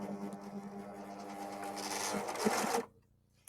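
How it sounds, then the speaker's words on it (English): A Husqvarna Viking Overlock S100 serger stitching fabric runs as a steady fast mechanical whir close by, then stops abruptly near the end, leaving near silence. "You start the overlocking."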